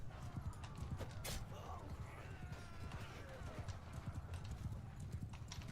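Massed cavalry horse hooves clip-clop steadily in the medieval battle game Mount & Blade II: Bannerlord, a dense galloping patter under a voice giving orders, with a faint whinny in the mix.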